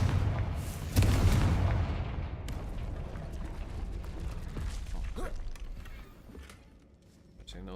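Confringo spell explosion in a Harry Potter video game, a loud booming blast that rolls into a rumbling decay, followed by scattered lighter game effects.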